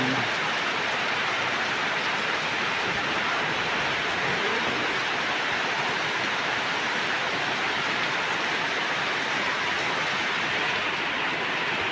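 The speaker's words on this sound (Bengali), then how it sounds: "বৃষ্টি পড়তেছে, মাশাআল্লাহ, আলাতুর বৃষ্টি পড়তেছে" Steady, unbroken rain pours outside a village house, a dense even hiss heard from the doorway with no talk over it.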